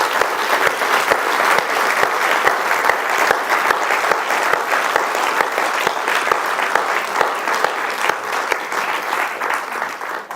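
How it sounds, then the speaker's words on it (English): An audience claps after a lecture on personalised cancer treatment, a loud, even burst of applause that fills the room throughout and tapers slightly near the end. "one more round of applause to say well done, Rohini."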